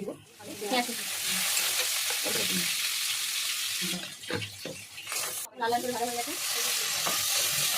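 Spices temper in hot oil for an egg paneer dish, a loud close sizzle with a stirring spoon scraping the pan and a brief pause in the middle, under a little background speech.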